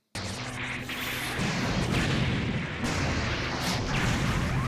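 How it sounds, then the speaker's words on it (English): Anime mecha combat from a Gundam episode: a continuous roar of gunfire and blasts with whooshing bursts, loud and dense throughout, sustained rather than separated into single shots. "Oh, they're shooting each other."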